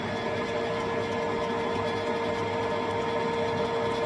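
Drilling a metal part for a Triumph chopper build, a steady, even machine whir and tonal hum holding constant throughout at moderate volume, with no voices.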